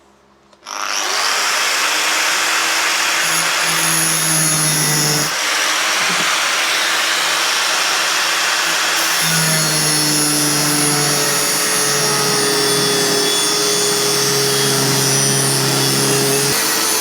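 Cutting disc grinding through rusty metal on an old Triumph, a loud continuous high-pitched whine that starts abruptly and holds steady, the pitch dipping and shifting as the disc bites, with no talking.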